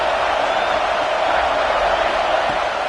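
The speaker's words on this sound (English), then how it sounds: "And here comes the noise. This crowd is trying to inspire this defense to make a big red zone stop." Stadium crowd at a college football game between Georgia and Texas roaring steadily as the defense tries for a red zone stop, a loud, dense sustained wall of cheering with whoops and no break.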